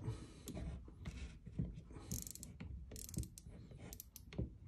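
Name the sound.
baitcaster reel ratchet while spooling braided fishing line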